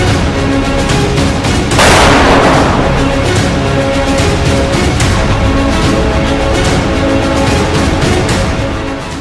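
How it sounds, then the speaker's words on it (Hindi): A heavy boom bursts out and rumbles away, followed by a dense stream of rapid cracking blasts, like a Russian tank firing shells from a forest amid continuous gunfire in the Russia-Ukraine war. "एक जगह तो एक रूसी टैंक जंगल की तरफ से दनादन गोले बरसाता दिखाई दिया।"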